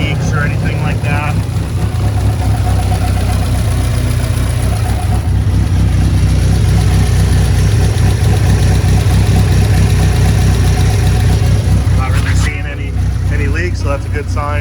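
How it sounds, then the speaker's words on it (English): A Mazda NC with a 2.5 engine swap idles steadily at close range, a loud even engine hum throughout, with a voice speaking briefly near the start and again near the end. "So I'm currently letting the car idle."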